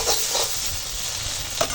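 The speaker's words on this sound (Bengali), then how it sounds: "দেখো এখন মশলার সঙ্গে আনাজটা ভাজা হয়ে গেছে" A steady, quiet sizzle of vegetables frying with spices in a pan, with a few soft stirring scrapes.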